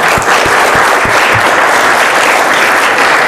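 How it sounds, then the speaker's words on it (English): Steady audience applause at a religious talk, a dense wash of clapping that stays loud and even throughout with a few sharper individual claps near the start. "Let's clap our hand to Alex and Eliezer."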